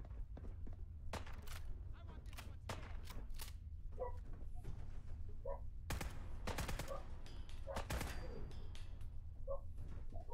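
Gunfire in Fallout 4, scattered sharp shots and short bursts over a constant low rumble, with footsteps and voices in the mix.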